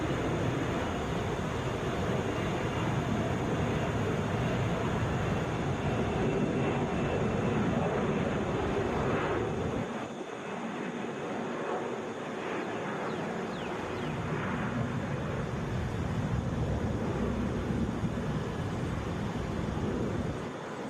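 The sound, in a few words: Delta Airbus A321 airliner at Atlanta airport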